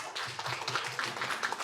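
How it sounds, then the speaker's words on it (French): Audience applauding a teacher at a Chinese livestream sales event, brisk overlapping claps at moderate level over a low background murmur. "On applaudit la professeure."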